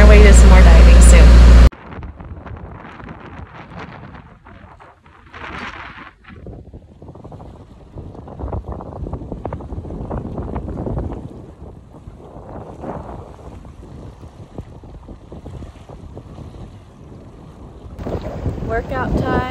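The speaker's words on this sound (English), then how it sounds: "It's blowing about 20 knots with 30 knot gusts." Strong wind of about 20 knots with 30-knot gusts buffets a sailboat sheltering from a tropical storm, a steady rushing roar with flapping and rattling, broken by a brief loud burst at the start.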